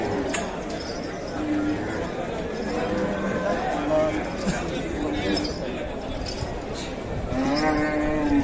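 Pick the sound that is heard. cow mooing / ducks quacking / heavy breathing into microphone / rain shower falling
cow mooing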